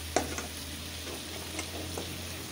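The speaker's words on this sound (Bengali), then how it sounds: "চিংড়ি মাছটা লাল লাল করে ভাজা হয়ে গেছে।" Prawns fry in hot oil in a pan, giving a quiet, steady sizzle with a few soft stirring clicks and no talking.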